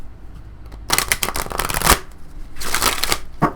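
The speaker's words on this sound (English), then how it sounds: "They didn't shuffle them the way I do." Crisp riffling of a deck of oracle cards being shuffled, two quick bursts separated by a short pause, close up and fairly loud.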